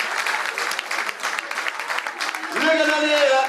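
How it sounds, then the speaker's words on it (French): A hall audience applauds actors at a Téléthon charity event, dense sustained clapping, with a voice starting to speak over it toward the end. "je pense qu'on veut les remercier et les applaudir."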